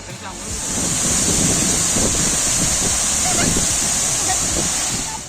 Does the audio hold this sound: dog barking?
no